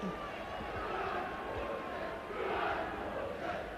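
A football crowd roars steadily at a Port Vale versus Derby testimonial match for Andy Porter, urging him to shoot from a free kick; the dense, sustained shouting swells slightly toward the end.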